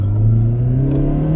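A Chrysler PT Cruiser engine revs from inside the car, a loud steady drone with a tone that climbs slowly as the revs build, alone without talk.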